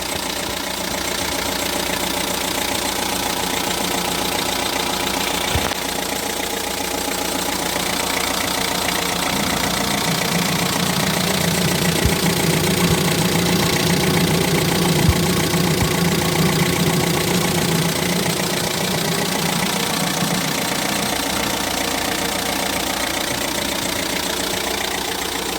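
A 2006 Hyundai Porter TCI double-cab diesel truck with manual transmission idles steadily, its close, continuous engine clatter unbroken with no talking.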